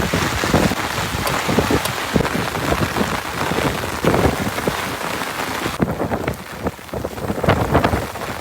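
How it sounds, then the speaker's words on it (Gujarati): Heavy rain pours down steadily and loudly during a farm downpour, with a dense constant hiss and scattered louder splashes, and no voices over it. "આમ વરસાદ જોવો તમે."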